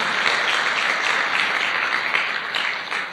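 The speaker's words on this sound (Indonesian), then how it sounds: "Tepuk tangan dulu untuk beliau Bapak Ibu ya." An audience at a motivational business talk applauds for a speaker, a dense, steady wash of many hands clapping close by that fades slightly at the end.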